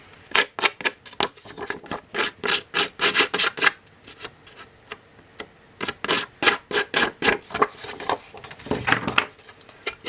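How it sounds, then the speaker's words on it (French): A hand rasp or file scrapes back and forth across the edge of an album page, with rapid, close, evenly rhythmic strokes in bursts and a brief pause partway through. "Et ici, je vais limer."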